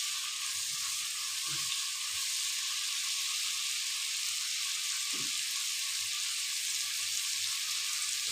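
A washed, seasoned pigeon is seared in a hot pan before the onion goes in. A steady, even sizzling hiss fills the whole stretch, with a couple of faint low knocks from moving it around.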